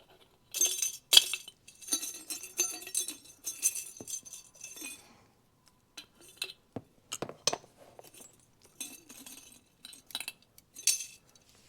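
Bursts of sharp glassy clinks and crunches, close up, in irregular clusters with short pauses between them, like brittle glass being poked and cracked apart.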